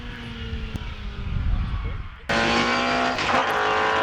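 A car engine drones, then a loud race car at the Gurston Down speed hillclimb roars in abruptly and close toward the finish line, holding a high, sustained engine whine.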